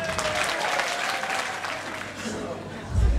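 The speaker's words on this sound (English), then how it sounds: "A round of applause for Ned." Applause for the groom at a mock wedding hosted by a GAA club, a dense burst of clapping from a room of people that carries on steadily and then dies away.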